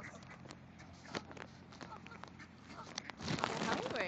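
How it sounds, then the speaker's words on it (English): Ducks quacking at feeding time beside water, a cluster of raspy calls over outdoor background noise, growing louder and busier near the end. "We'll feed the quack quacks."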